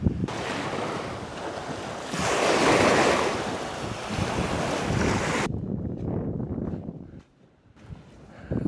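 Sea waves on a sandy beach roll in as a steady, loud wash with a surging crest midway, mixed with wind buffeting the microphone, then ease to a quieter hiss.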